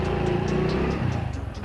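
A motorbike carrying two boys rides by, its engine making a steady, close, continuous drone for the whole stretch.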